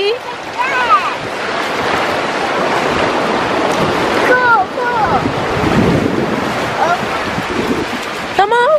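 Ocean waves break and wash up on a sandy beach amid heavy wind buffeting the microphone, a loud continuous roar with surging swells, while children's voices rise and call out at intervals.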